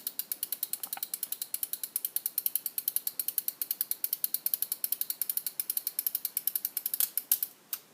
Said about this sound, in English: There's a click sound right there